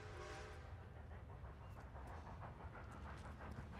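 A steam train approaches in the Red Dead Redemption 2 video game, a steady rumbling, chugging rail noise with rhythmic clatter that fills the whole stretch without talk.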